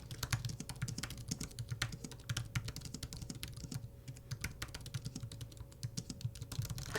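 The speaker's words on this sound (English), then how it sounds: "I can already feel that it's going to be a better typing experience." Rapid, steady typing on a Chilkey ND75 mechanical keyboard, close and clear, with dense overlapping keystroke clicks and no talking.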